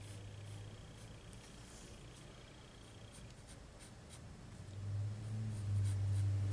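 Pencil or marker from Dollar Tree art supplies scratching steadily across paper while drawing an eye's top lid, a soft continuous close-up scraping with a low hum joining near the end.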